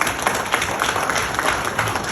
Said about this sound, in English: Let me invite each and everyone to give a big round of applause to my fellow